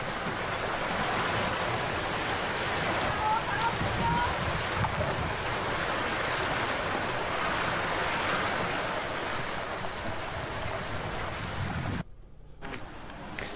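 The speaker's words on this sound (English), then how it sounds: "The water gets sucked in, pumped to the top, and off it goes down again." Water from a wishing well at Alnwick Castle Gardens, pumped to the top, flows down in a steady rushing wash with outdoor wind noise, continuous and moderately near before dropping away at the end.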